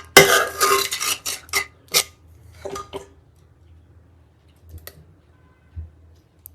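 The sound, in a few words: dishes and cutlery clinking while plating a thali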